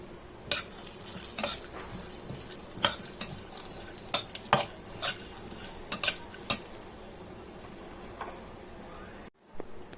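Chopped dry fruits fry in hot ghee, a faint steady sizzle under repeated sharp clicks and scrapes of a spoon stirring against the pan.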